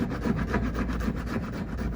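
A rasp files a patch on a kayak keel in quick, even back-and-forth strokes, a close, rough scraping that repeats about three to four times a second without pause.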